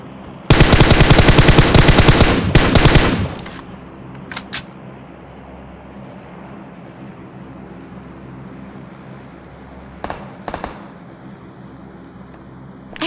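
A rapid burst of automatic gunfire in PUBG mobile gameplay rattles loudly for about three seconds, followed by a few isolated sharp shots later on over a quiet ambient background.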